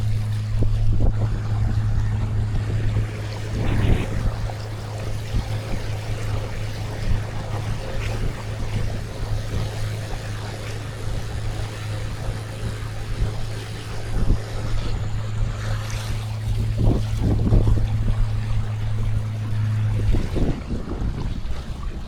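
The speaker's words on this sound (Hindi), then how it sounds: "अभी बोट पानी में जा रही है" Motorboat travelling along a river through deep jungle forest, its engine a steady low drone throughout, overlaid with wind buffeting and water splashing against the hull, loud and continuous with no talk.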